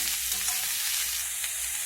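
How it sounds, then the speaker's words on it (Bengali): Cabbage and carrot stir-frying in a pan for egg chowmein, a steady bright sizzle with soft scraping stirs, close and continuous with no talk. "এবার কেটে রাখা বাঁধাকপি আর গাজর দিয়ে আমি নেড়েচেড়ে ভেজে নেব।"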